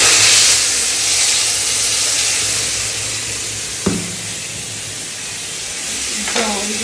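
Spices hit hot oil with a loud, close hissing sizzle that slowly eases off, broken by a couple of sharp utensil knocks against the pan.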